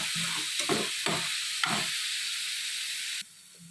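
Beetroot sautéing in plenty of ghee in a pan gives a steady, soft hiss and sizzle, with several brief scraping stirs near the start. The sizzle runs alone and cuts off abruptly near the end.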